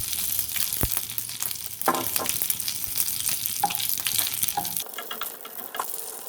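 Black mustard seeds and bori fry in a little added oil for a coconut and papaya dish, crackling and sizzling with scattered pops and stirring clatter, no talk.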